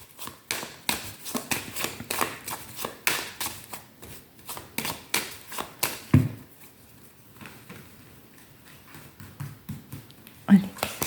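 Tarot cards are shuffled in quick rhythmic riffles and taps up close for about six seconds, then fall mostly quiet with a couple of sharper knocks, under a person's soft voice.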